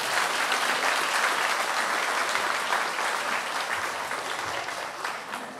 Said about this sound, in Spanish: Yo quiero que le brindemos un aplauso fuerte a ellos